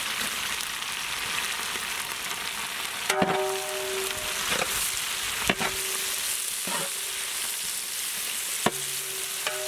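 Sliced onions fry in hot oil in a pan, giving a continuous close sizzle. Scrapes and clanks from stirring come every couple of seconds, and no one speaks.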